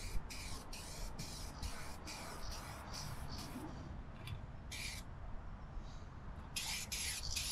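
A spray can sprays paint outdoors for hydrodipping in a series of short bursts, several quick ones in a row, then scattered single sprays, heard close over a faint, rumbling outdoor background.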